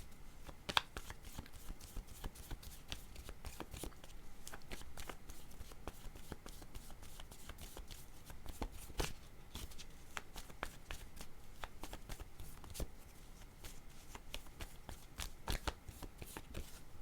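Tarot cards are shuffled and handled close to the microphone, with a long run of quiet, crisp riffling and flicking at an uneven but continuous pace and no talking.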